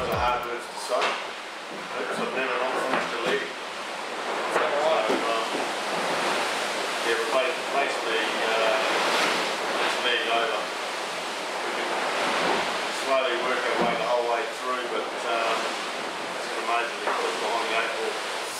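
Southern Ocean waves crash and rush around a racing yacht during the Volvo Ocean Race, a loud continuous roar of water and spray with surging bursts, while a voice talks over it.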